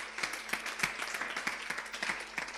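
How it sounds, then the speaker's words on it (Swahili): Clapping from a church congregation answering a preacher's call for applause for Jesus, a steady burst of many hands, moderately loud and close. "Pigie Bwana Yesu makofi"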